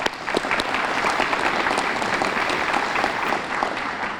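Audience applause at a Habitat for Humanity announcement in Jefferson Parish: steady, dense clapping from a crowd, loud and continuous for several seconds with no voices over it.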